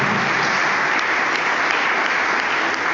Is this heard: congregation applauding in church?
yes